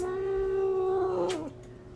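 A cat lets out a loud, drawn-out caterwauling growl with a steady pitch that wavers and breaks into a rising yowl near the end, then falls quieter.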